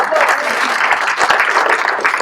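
Dense, steady applause from an audience of local elected officials at a senators' debate meeting in Morbihan, with a faint voice breaking through briefly.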